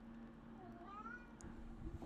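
A cat meows once with a rising, wavering call, moderately close, over a steady low hum and faint background noise, with muffled talk-like sounds near the end.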